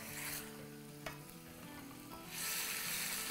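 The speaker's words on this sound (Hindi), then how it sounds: "बस इसको जब तक ही सॉटे करेंगे, भूनेंगे, जब तक कि चिकन का कलर थोड़ा सा चेंज ना हो जाए।" Chicken sautés in a hot pan for green chicken karahi, with a continuous close sizzle and stirring sounds that swell louder near the end.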